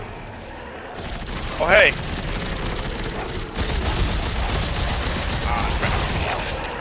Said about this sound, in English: Fire, shoot him.